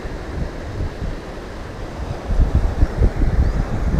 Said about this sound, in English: Real gusty, just come up now.